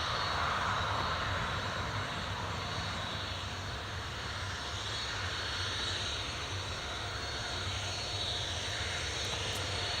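A TUI jet airliner lines up on runway 25 at Newcastle International Airport before a flight to Ibiza, its engines giving a continuous whining roar at a steady level from a moderate distance.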